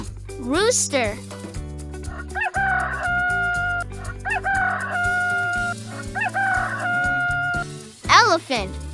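A rooster crows loud and close, one ringing cock-a-doodle-doo near the start and another at the end, over an upbeat children's tune with bright sustained notes between the calls.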